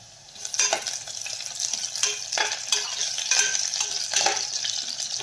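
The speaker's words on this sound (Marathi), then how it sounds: "आता आपण यामध्ये घालूया थोडा कढीपत्ता। यामध्ये घालूयात आपण हिरव्या मिरचीचे तुकडे।" Curry leaves and green chilli pieces sizzle loudly in hot oil for masala khichdi, a dense crackling spatter with repeated sharp pops and stirring clinks.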